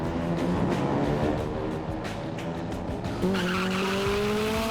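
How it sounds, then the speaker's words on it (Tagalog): Loud racing car engines roar continuously at an illegal street race while tires screech in long skids, with a high whining squeal rising near the end. "Ang katahimikan binabasag ng ingay mula sa mga nagngangalit na tunog ng makina ng kotse."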